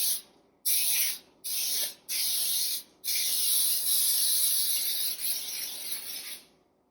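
Baking spray with flour hisses from an aerosol can in several short bursts, then one long continuous spray that tapers off, close and fairly quiet with no talking.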